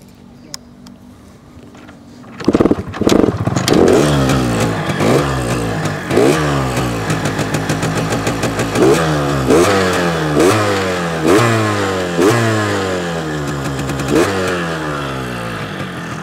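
Yamaha RX King motorcycle engine starts and is revved repeatedly, rising and falling in a regular rhythm of roaring bursts over a steady idle, close and loud.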